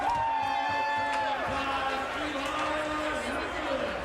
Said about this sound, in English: The crowd's into it now.